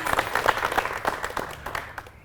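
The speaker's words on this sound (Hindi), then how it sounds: "थैंक यू, बहुत ही अच्छा सवाल है। ताली बजा दो फिर।" An audience at a youth cleanliness-campaign discussion breaks into a short burst of applause, a scattered patter of claps that peaks early and thins out over about two seconds.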